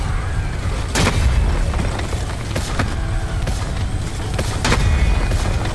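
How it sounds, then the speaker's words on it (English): Heavy gunfire in a video game boss fight, with several loud booming shots landing around the one-, two-and-a-half- and five-second marks over a constant dense rumble of battle noise. "I'm shooting you in the face"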